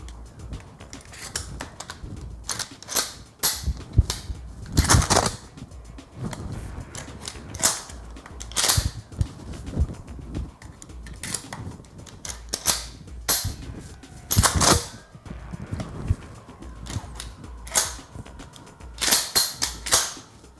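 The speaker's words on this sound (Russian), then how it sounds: "И теперь нужно дослать патрон из магазина в патронник." A Remington 870 pump shotgun being handled during dry-fire practice at home gives a string of sharp metallic clicks and clacks from the action and trigger, spaced irregularly and close up, with no talking.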